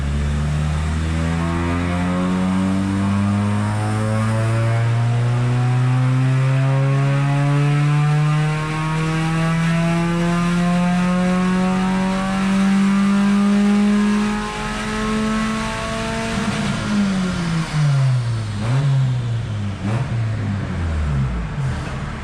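Honda Civic EJ9 with a D14 engine and long-range gearbox on a dyno during a third-gear pull, a loud, close engine note climbing steadily in pitch, then cutting off and dropping back with burbling decel.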